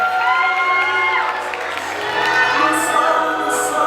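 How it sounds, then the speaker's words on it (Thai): An audience at a beauty pageant crowning show cheers and whoops loudly, a dense crowd roar of voices that holds steady for a few seconds with little clapping distinguishable. "ขอเสียงปรบมือ"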